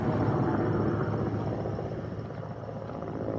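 Helicopter flying over a refugee camp in northern Mali, a steady low rotor drone that holds loud and constant throughout with no voices.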